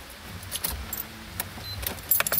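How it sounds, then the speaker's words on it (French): A car's ignition key is turned to switch off the engine, a short metallic jangle of keys with a few light clicks, close by and fairly quiet with no talking. "Et on coupe le contact."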